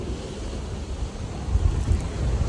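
Squally wind blows at sea aboard a solo ocean racing sailboat, a steady broadband rush with low gusty rumble that swells toward the end, with no voices.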